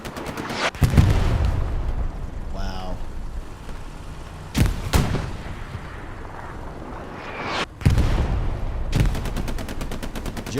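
Artillery strikes hit in the World War II shooter Hell Let Loose, several loud booming impacts spaced a few seconds apart with rumbling tails over a background of distant battle noise, a voice talking over the action.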